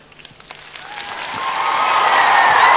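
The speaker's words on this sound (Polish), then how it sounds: "Brawa, brawa." Audience applause at the final gala concert of a festival, starting with scattered claps and swelling into a loud, dense ovation that keeps building to the end.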